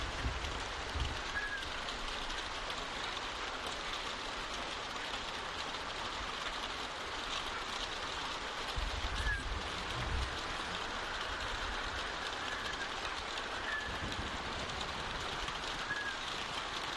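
Steady rain falls outside a barn in Telltale's The Walking Dead game, a continuous hiss of broadband patter holding evenly throughout with a few faint low thumps, no voices.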